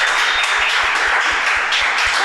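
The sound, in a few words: audience applause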